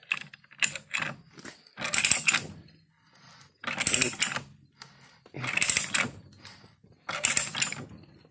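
A Harbor Freight five-piece pipe threader cuts threads into a metal pipe, giving rhythmic ratcheting strokes: four loud grinding bursts about a second apart, with lighter clicks in between, close up.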